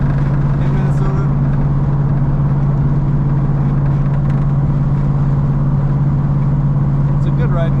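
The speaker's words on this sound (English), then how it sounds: "You get a little wind noise" Inside a moving 1939 Oldsmobile Series 60 sedan on a cold Minnesota day, a constant low engine hum sits under a soft, even rush of wind around the cabin, steady from start to finish.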